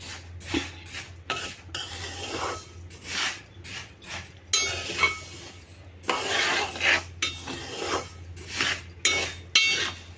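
A utensil scrapes and stirs food with almonds roasting in a pan on a stove in repeated short strokes, with metallic clinks and a low steady hum underneath.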